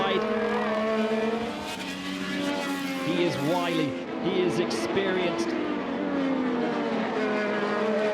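IndyCar race cars roar through the Mid-Ohio circuit in a Honda Indy 200 battle between Scott Dixon and Alex Palou. Loud, steady engine whine shifts pitch as cars pass, with commentary running over it throughout.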